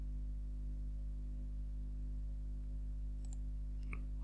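A computer mouse gives two brief, sharp clicks late on while a 2D CAD sketch is drawn, set against a constant loud electrical hum with no talking.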